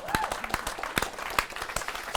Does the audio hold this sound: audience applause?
yes